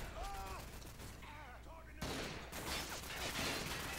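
Gunfire in a shooter video game, heard as fairly quiet bursts of rapid shots mixed with other game sounds.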